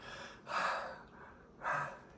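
A voice imitates heavy, exaggerated breathing in two loud breathy bursts, each roughly half a second long, separated by a brief quieter pause, up close with no other sounds.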